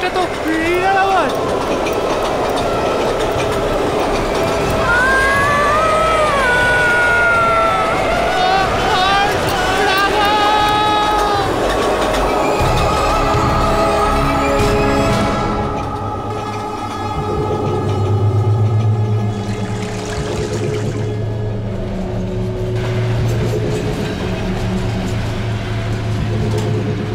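A passing train in a dramatic horror scene, heavy rumbling rail and engine noise throughout with high squealing tones early on, loud and close, mixed with voices talking.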